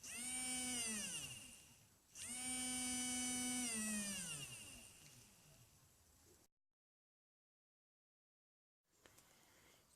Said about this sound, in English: the speed of the motor is dependent on the value of the potentiometer, or as demonstrated now.